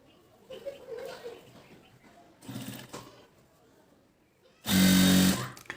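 Sewing machine stitching a blouse, a loud, steady machine run of about a second near the end, after a stretch of quieter handling noises.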